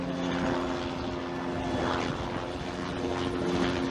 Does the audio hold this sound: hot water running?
no